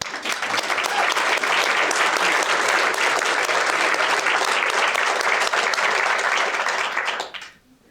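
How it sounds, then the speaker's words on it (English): A large summit audience, including the city of Knoxville team, applauds in a loud, sustained wash of clapping that holds steady for about seven seconds and then quickly dies away. "please stand up and let us give you a round of applause for being here"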